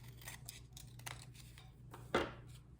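Scissors snip through paper while decorating a holiday candy corn table, one sharp close cut ringing out near the end after soft handling rustles over low background hum.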